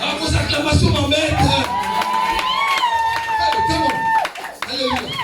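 A church congregation cheers and acclaims loudly throughout, a dense crowd roar with shouts and whoops, while a voice rises over the din and sustains a long call above it.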